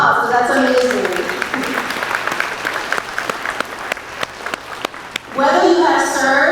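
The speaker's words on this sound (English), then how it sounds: "Now give yourselves a round of applause, because that's amazing." A school crowd at an elementary Veterans Day program claps loudly for several seconds, the applause rising under a burst of chatter at the start and fading as voices take over near the end.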